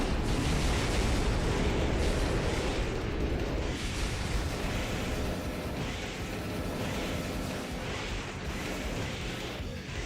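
Missile barrage from a boss fight in an action video game, a dense, continuous rumble of explosions and blasts at steady loudness with no speech throughout.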